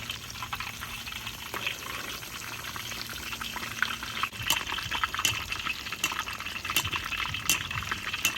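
A whole chicken deep frying in hot oil, a steady bubbling crackle and fizz that builds after a few seconds with sharp pops and spits, moderately close and with no talking.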